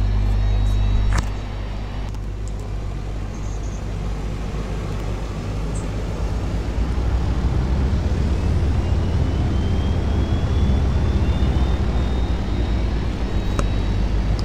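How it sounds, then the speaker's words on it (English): Twin turboprop engines of a Dash 8 running in Flight Simulator X, a loud steady low droning rumble with a rising whine after a start click, continuous and close throughout. "I'm just going to start the engines. There they go. 2-engine prop plane."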